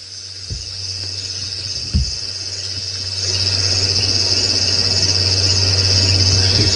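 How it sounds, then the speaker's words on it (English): Steady high trilling of crickets and other insects at night beside a small river, constant and continuous, with a low droning hum underneath and a couple of brief soft knocks. "Yeah, a few crickets. 1 or 2 birds calling their last. In fact, it's mostly insect sound"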